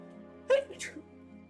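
A short sneeze bursts out once over a steady background hum, followed by a brief second breathy burst, heard close and fairly loud.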